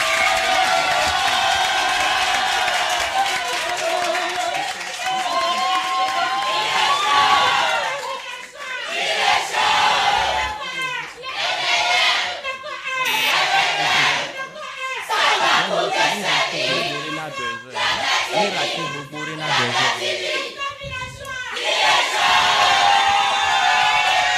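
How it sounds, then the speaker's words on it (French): A large crowd at a school football match between Lycée de Tokoin 1 and Collège NDA roars, cheers and shouts loudly, with surging waves of voices and some clapping throughout. "Je vais vous demander encore une fois d'applaudir pour les deux équipes."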